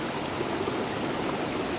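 A clear stream flows beneath trees in the rainy season, producing a steady, even rushing hiss with no breaks and no voices.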